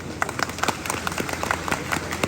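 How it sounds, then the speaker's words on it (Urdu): Scattered, uneven hand claps from an audience at a gathering, light and fairly close, making a brief patter of separate claps rather than full applause. "مفتی صاحب آپ سے ایک تالی ہو جائے"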